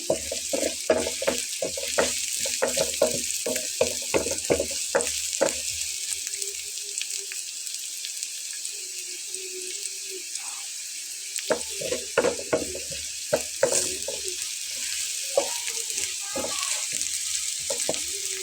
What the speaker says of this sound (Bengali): তেল দিয়ে শুধু ভেজে নিতে হবে একটু লাল লাল করে